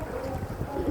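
Strong sea wind blows steadily across the microphone on a shallow stretch of sea being crossed on foot, a continuous low rumbling roar lasting the whole moment with no voices.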